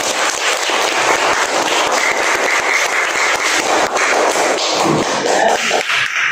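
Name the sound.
classroom applause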